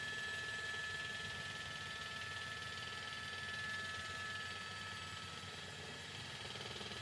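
A news helicopter hovers overhead while covering a police pursuit, its engine and rotor making a steady, broadband roar that continues without a break and without any voices.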